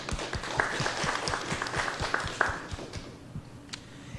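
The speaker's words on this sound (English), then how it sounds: "Join me in a round of applause for this outstanding steward of public funds, Teresa Chapman." A room at a school district governing board meeting claps for an honoree: a scattered, moderately loud patter of hands that thins out and fades toward the end.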